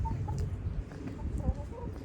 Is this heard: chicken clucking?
yes